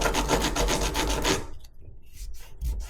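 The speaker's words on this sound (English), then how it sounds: "Put your tool in there, just give it a scrape." A hand tool scrapes across a tiled shower during a DIY bathroom remodel, giving a loud, rhythmic rasping for about a second and a half before it stops, leaving a quieter stretch with faint scattered scrapes and handling noise.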